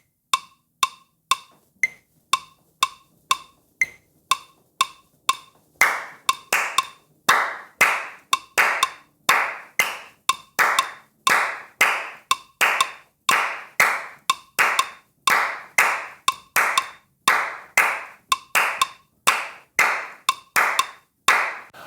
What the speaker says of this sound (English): he's going to show you how to clap this rhythm out